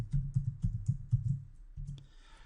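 Login details being typed on a computer keyboard, a quick run of soft, close keystroke clicks with a brief pause before a last few presses.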